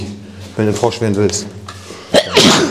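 A person talks, then a sharp, explosive sneeze bursts out near the end of the clip, close and loud.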